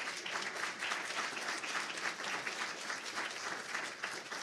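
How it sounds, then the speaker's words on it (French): An audience at a panel discussion applauds the speakers, a dense continuous patter of many hands clapping at steady strength, with no voices heard over it. "Je crois qu'on peut les applaudir."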